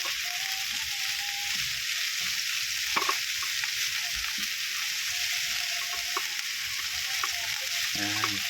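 Bitter gourd (ampalaya) sizzles in a pan as it is stirred, a constant hissing fry with occasional scraping of the utensil against the pan.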